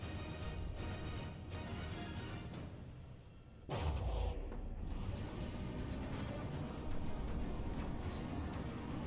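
Long torpedo launch in the naval combat game From The Depths: a sudden deep boom followed by a sustained rushing roar, moderately loud over a steady rumbling background.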